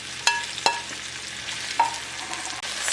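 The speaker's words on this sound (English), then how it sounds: "you're gonna mix everything" Chili chicken with green onion, peppers and chilies is stirred in a hot pan: a few sharp utensil clinks and scrapes ring out over a steady close sizzle, with no talking.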